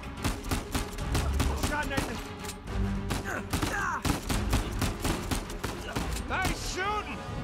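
Rapid bursts of gunfire in the Uncharted 4 video game, repeated sharp shots and volleys in a busy firefight, with game voices and effects layered over.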